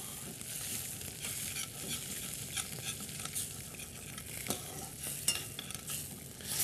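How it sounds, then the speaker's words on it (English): A pan sauce reducing at a live cooking demonstration aboard the Queen Mary 2, with steady sizzling and bubbling while a utensil scrapes the browned bits off the pan bottom in repeated strokes. No one talks. "So this will be reducing, and you're going to get all those bits and pieces from the bottom. You're going to scrape it off, so it's infused into the sauce."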